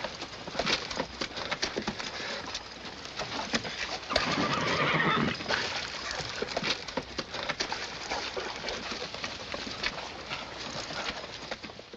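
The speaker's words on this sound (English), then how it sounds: "the horses trip and stumble through those hot sands" Horses plod through hot desert sand in the 1948 film Yellow Sky, with scattered hoof clops, snorts and a brief louder shuffling burst, all faint and unaccompanied by talk or music.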